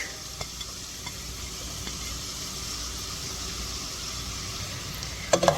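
Carrots, celery, onion and garlic sizzling in melted butter, a steady even hiss of frying heard close, with a few faint clicks and a brief clatter of utensils near the end.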